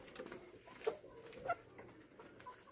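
A hen near a nest box where eggs are being collected gives a few faint, scattered clucks, quiet and sparse, with no voices.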